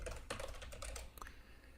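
A computer keyboard typed on while entering a password to log in to a website, a short quick run of light key clicks over a low steady background hum, faint and close.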